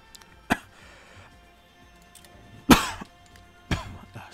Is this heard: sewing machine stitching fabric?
no